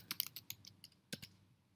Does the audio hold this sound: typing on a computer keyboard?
yes